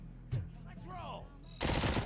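A short burst of automatic gunfire from the video game RoboCop Rogue City erupts loudly at the end, after a moment of game sounds and a spoken voice.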